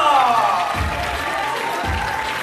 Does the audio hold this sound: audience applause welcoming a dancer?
yes